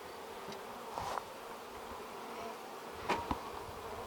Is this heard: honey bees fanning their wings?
yes